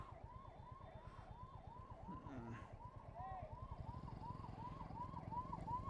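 A wailing ambulance siren cycles steadily as the ambulance sits stuck in heavy traffic in Indore, India, over the low rumble of idling and honking vehicles, with faint voices in the background.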